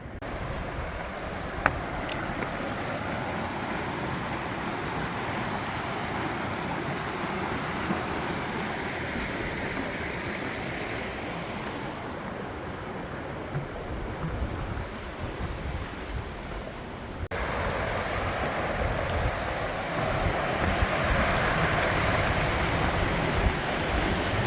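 A good-sized creek rushes steadily outdoors in a continuous broadband wash, with wind buffeting the microphone and the level rising slightly toward the end.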